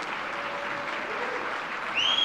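Sustained applause from a gala audience at the Kidsave National Miracles Gala, a steady even roar of clapping that lifts slightly near the end.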